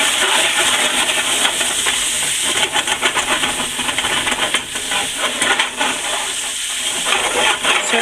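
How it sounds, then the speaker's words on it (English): A liquid with rosemary boiling down in a pan makes a steady loud hissing and bubbling roar that runs unbroken from start to finish, with no talking. "Boil it down."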